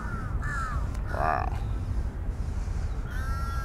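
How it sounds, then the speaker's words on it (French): Crows caw in Lumpini Park, Bangkok, a few harsh calls spaced across the scene over a constant low outdoor rumble, with a brief voiced exclamation in the middle. "Oh, les oiseaux dans le ciel. Corbeau, corbeau, corbeau."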